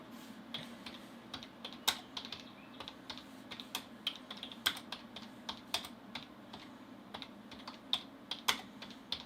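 Computer keyboard keys clack in quick, irregular bursts of close, crisp taps, with short pauses between runs of typing and no voices.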